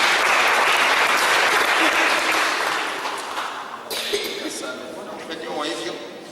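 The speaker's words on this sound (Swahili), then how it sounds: "Simunipigie makofi, nimejaribu." A church congregation bursts into loud, full applause that fades over a few seconds into scattered claps and crowd murmur.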